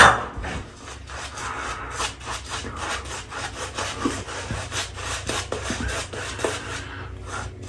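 Rapid, rhythmic brushing and swishing close by as a brush lathers shaving soap on a face, repeated strokes with no talking.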